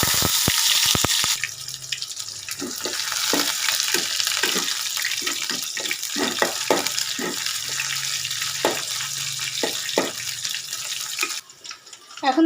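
Chopped garlic and onion drop into hot oil in a cooking pot for a bitter gourd fry, a burst of loud sizzling hiss followed by steady crackling and spitting pops that continue for several seconds.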